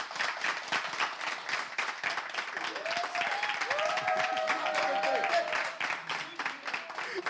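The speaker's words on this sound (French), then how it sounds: "Si on peut l'applaudir, on la reçoit sur ce plateau." Studio audience applauding a contestant as she is welcomed onto a French television game show set, steady clapping throughout with bright music tones rising in the middle.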